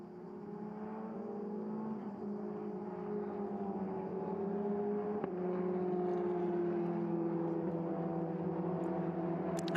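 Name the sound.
racing cars on formation lap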